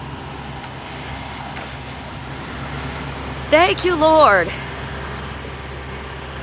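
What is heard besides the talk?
big 18-wheeler truck passing by loudly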